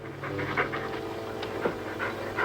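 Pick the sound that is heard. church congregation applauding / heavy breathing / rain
heavy breathing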